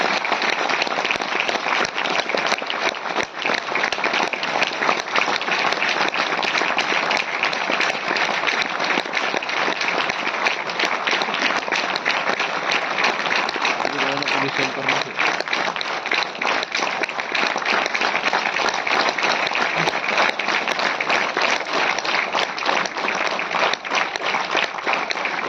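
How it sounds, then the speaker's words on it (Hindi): Long, unbroken applause from a crowd at an Indian railway goods-shed workers' union program in Delhi, thick continuous clapping at an even level for about twenty-five seconds. "जोरदार तालियां, और तालियां रुकनी नहीं चाहिए"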